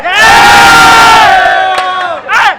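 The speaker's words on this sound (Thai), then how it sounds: "ขอเสียงทีมขอบสนามหน่อย" A loud crowd of supporters cheers and shouts in unison at a Thai amateur football match, a sustained roar that fades briefly near the end before a short burst of renewed yelling.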